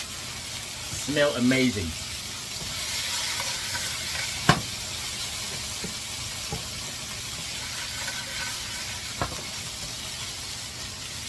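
Lobster tails stir-frying in a wok with sesame oil, a steady hiss and sizzle with a few clinks of a utensil against the pan; a voice briefly speaks over the frying early on.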